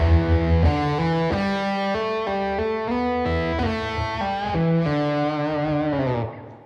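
Distorted electric guitar plays a slow pentatonic riff, with hammer-ons and pull-offs and sustained notes left to ring. It is loud, gritty and continuous, with no voices.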